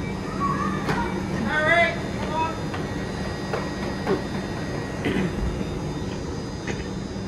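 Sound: cooling fans running on Hitachi AT300 train

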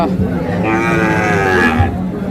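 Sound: Friesian cross calf mooing at cattle market

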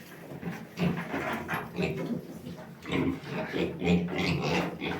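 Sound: sow and her fourteen piglets

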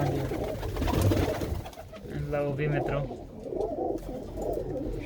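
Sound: pigeons cooing

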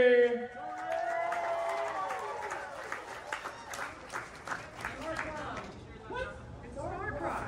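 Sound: audience applause for a fursuit dancer

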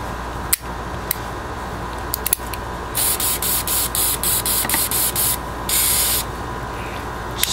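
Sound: spraying gun oil on pistol actions

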